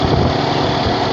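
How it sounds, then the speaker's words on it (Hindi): A motorbike rides slowly at about 30 km/h along a road in Khyber Pakhtunkhwa. Its engine gives a steady, close, continuous drone throughout, with no voices. "हम बिल्कुल सुकून से बाइक चला रहे हैं"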